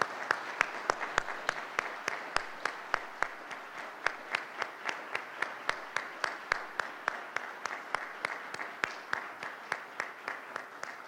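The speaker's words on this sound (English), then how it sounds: "one big round of applause would be very appropriate" A small audience at an awards ceremony honoring exports gives a round of applause, its claps sounding as sharp, separate, fairly steady hits rather than a dense roar, continuing for about eleven seconds with no voices.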